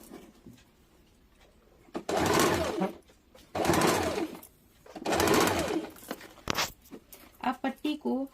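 A sewing machine runs a curved stitch on a baby umbrella frock, in three loud whirring bursts of a couple of seconds each with pauses between, then a few short quick taps.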